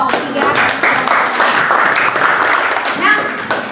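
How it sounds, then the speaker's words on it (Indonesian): Classroom applause for a student group in a lesson, steady clapping from a room of people running through the whole moment at even loudness, with some voices mixed in. "Oke, tepuk tangan untuk kelompok 3."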